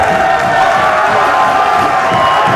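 A capacity crowd at a wrestling show cheers and roars in a steady, loud wall of noise that fills the arena.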